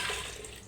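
Water poured into a cooking pot holding tomato, onion and ground spices, a brief steady splashing pour, close and moderately loud.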